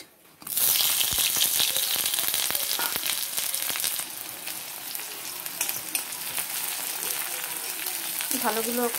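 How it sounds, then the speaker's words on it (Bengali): Chopped onions dropped into hot oil with black cumin and a spice paste for a pointed gourd mash, bursting into a loud, steady sizzle after a brief quiet start; a voice speaks briefly near the end. "ভালো করে এগুলোকে একটু লাল লাল করে ভেজে নেব পেঁয়াজগুলো"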